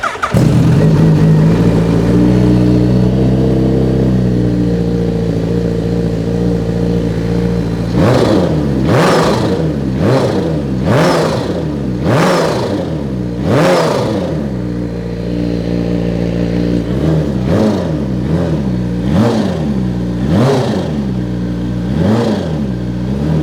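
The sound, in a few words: 250cc Honda motorcycle engine revving to high rpm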